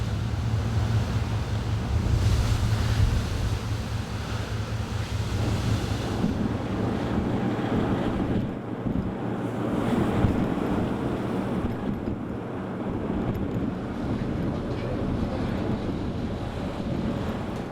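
Strong wind roaring and heavy waves surging at sea off Ouessant, a broad continuous rumble with buffeting gusts on the microphone throughout, close and loud with no voices.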